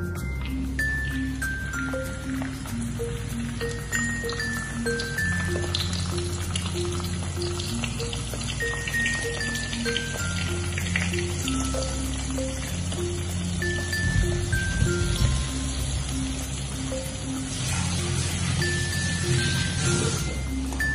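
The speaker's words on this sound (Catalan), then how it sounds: "aquí seguim acabant de fregir aquests sonsos" Oil sizzles steadily as sonsos, fragile Catalan pastries, fry, a constant crackling hiss with light tinkling clinks over a background of quiet music.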